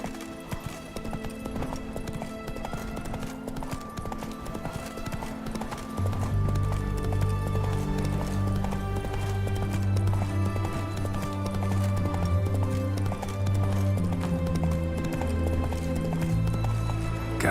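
In The Witcher 3, the horse Roach gallops with steady clip-clopping hooves. A low musical score joins partway through and plays under the hoofbeats.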